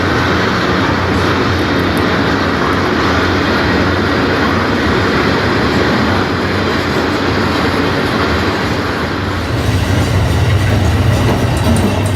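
An Amtrak train from Chicago Union Station to Milwaukee passes Glenview station, a loud, steady rumble and roar close by that holds for the whole stretch and swells slightly near the end, with no talk.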